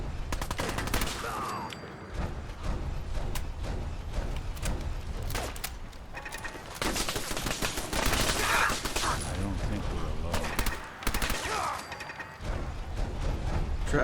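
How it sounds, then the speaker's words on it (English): Machine gun fire in the video game Fallout 4, bursts and rattling volleys coming in waves with mechanical clanks and creaks between them, loud and sustained, with a voice talking in places. "There's a machine gun somewhere around here."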